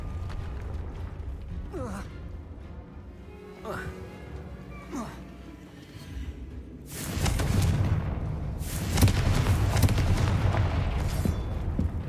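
Confringo fire spells explode in the Hogwarts Legacy video game: quieter whooshing strikes and breathy voice sounds early on, then two loud, crackling blasts with rumbling tails toward the end.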